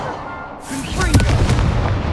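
A Confringo blasting spell from the Hogwarts Legacy video game bursts out suddenly after a quiet moment, a loud explosive boom with crackling debris that rumbles on for over a second.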